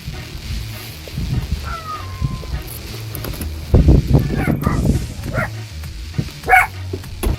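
A dog barks in short bursts, loudest near the middle, with some yips over steady background noise; no talking.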